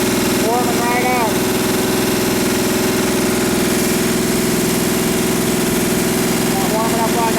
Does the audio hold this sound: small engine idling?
yes